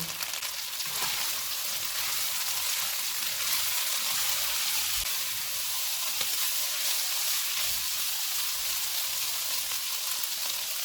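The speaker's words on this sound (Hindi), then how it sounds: "इनको 2 से 3 मिनट तक भूनेंगे" Onion and chilies fry in a pan with a loud, continuous crackling sizzle, close up and steady throughout, with no talking.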